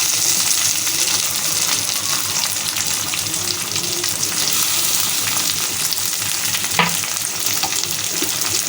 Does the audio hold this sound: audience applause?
no